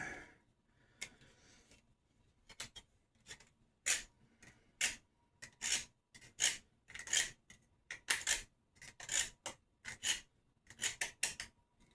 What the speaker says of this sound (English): Let's sharpen this up again.